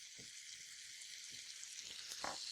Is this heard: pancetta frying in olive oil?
yes